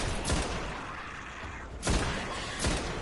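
Enemy fusion rifle fire in Destiny, heard as three loud, sharp bursts spaced about a second apart over a steady background rumble.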